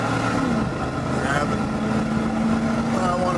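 A big truck engine with a Flowmaster exhaust and catalytic converters removed gives a loud, steady, deep rumble with a throaty drone throughout, and a voice speaks briefly over it.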